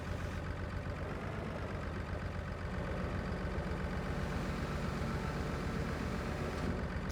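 Tractor engine idling in Farming Simulator 25, a steady low rumbling drone with an even mechanical throb, continuous and unchanging, with no voices over it.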